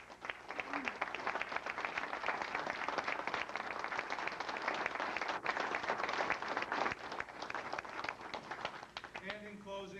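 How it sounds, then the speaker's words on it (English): Audience applause for Hall of Fame inductees at an induction ceremony, a fairly quiet, steady patter of many hands clapping for about ten seconds with a few voices and some movement noise mixed in. "we gave them one more round of applause"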